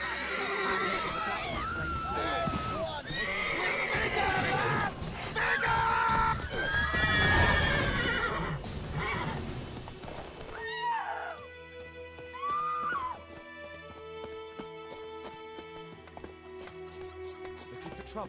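Roach, Geralt's horse in The Witcher 3: Wild Hunt, neighs and whinnies loudly several times over clip-clopping hooves and combat clatter, with game voices mixed in, before fading to calmer music with a last snort.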